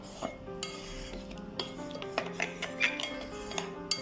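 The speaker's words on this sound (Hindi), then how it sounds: "इसको मैं अच्छी तरह मिक्स कर लूंगी।" A cook mixes cornflour with red chilli, cumin and salt in a bowl, a spoon clinking and scraping against the sides in quick, irregular strokes, close and fairly quiet, with no talking.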